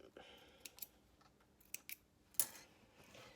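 Scissors snip fabric while a box blazer is sewn, a few faint, quick clicks spread over a quiet background with no talking.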